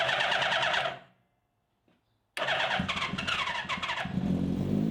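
A vintage motorbike engine runs after an ignition timing adjustment, loud and close; it revs, cuts out for over a second, then fires again into a rough, throbbing run.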